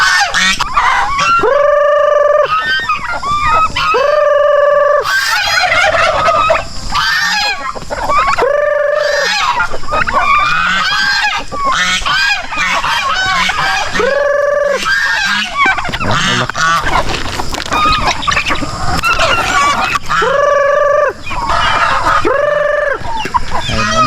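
Chickens and other fowl call loudly and repeatedly, with honking, clucking and crowing overlapping in a busy, close barnyard chorus, no talking.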